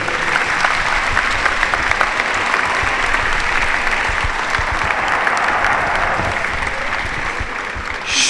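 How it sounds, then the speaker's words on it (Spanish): A church congregation breaks into sustained, dense applause, steady and moderately loud for the whole stretch, with faint crowd murmur beneath. "Un aplauso al Señor"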